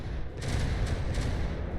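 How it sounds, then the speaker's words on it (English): Rapid bursts of cannon fire from advanced guns on ships in an aerial battle game, a few quick booming shots stacked close together over a rumbling background. "Those APS, those advanced cannons, they really go to town."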